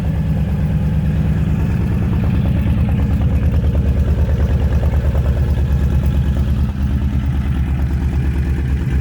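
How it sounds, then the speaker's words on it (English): A Honda Fury motorcycle with 727 miles idles close by with a steady low engine rumble and a slightly uneven, pulsing beat throughout, loud and with no voices. "Kind of sounds like the idle is not consistent."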